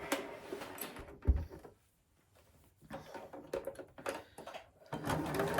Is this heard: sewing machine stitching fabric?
yes